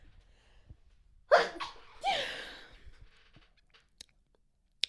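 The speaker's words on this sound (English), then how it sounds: "Oh my gosh, I have to sneeze." A woman's sneeze, one sharp burst after a quick inhale, followed by a second loud breathy burst, close and clear in a quiet room, with small mouth sounds around it.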